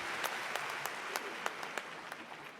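An audience at a 2018 Strayer commencement ceremony in Atlanta applauds a graduate's mother: a steady, fairly faint wash of clapping from many hands, with a few sharper individual claps standing out.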